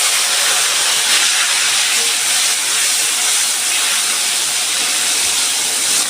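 Tomato dropped into hot mustard oil with whole cumin in a kadai, giving a loud, steady sizzle and hiss that holds without break, close up and alone.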